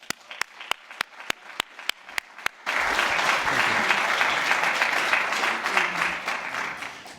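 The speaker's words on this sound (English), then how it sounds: "let's welcome him with a round of applause" A conference audience breaks into sustained applause after a run of slow, evenly spaced single claps, the dense clapping holding steady and close until the end.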